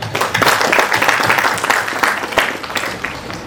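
Steady applause from a crowd, a dense wash of clapping that holds at an even level throughout with no voices standing out.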